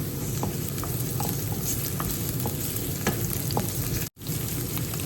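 Sliced hotdog sausage and onion frying in an oiled pan, a steady close sizzle with scattered crackles and a few light stirring scrapes, broken by a very brief dropout near the end.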